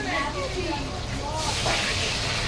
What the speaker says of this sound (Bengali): এখানে মাংসের আলু ভাজা হচ্ছে।